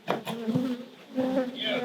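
Wild bees buzz around comb during a rescue from a kitchen cupboard, a close, fluctuating droning hum that swells and fades, with a few soft knocks and no clear talk.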